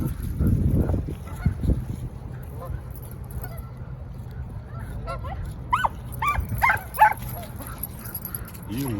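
A flock of geese honking in a quick cluster of calls, with a bird dog nearby making low sounds at the start and a quieter stretch before the honks.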